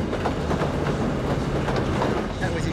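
An ore train locomotive passes on an Australian railway, giving a steady, loud broadband rumble of rolling wagons with faint clickety-clack throughout, close by and with no talk.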